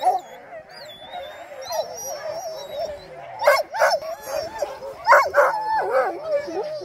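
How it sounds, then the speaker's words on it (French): Several dogs bark, yip and howl in a lively, uneven chorus at close range, with bursts getting louder toward the end and people talking among them. "C'est nos chiens à nous."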